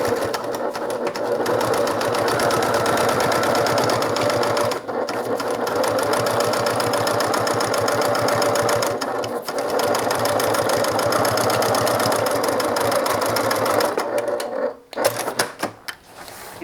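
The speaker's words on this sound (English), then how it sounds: "stitch the bottom using a 1/2 inch seam allowance" A sewing machine runs fast and steady, stitching the bottom seam of a fabric bag with a half-inch seam allowance; a loud, close, continuous whirring hum with brief pauses before stopping near the end.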